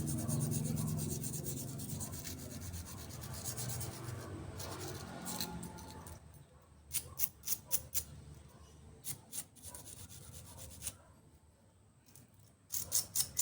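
Scrubbing and rubbing on a motorcycle brake being cleaned, a dense scraping texture early on that gives way to a series of sharp, close strokes and taps in uneven bursts, with no voices.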